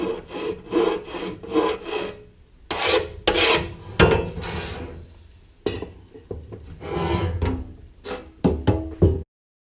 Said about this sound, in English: I'll be filing them down just to make it smooth.